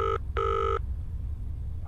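A phone rings on a call in Zoochosis, two short electronic trill bursts of ringing, clear and close, followed by a quiet pause.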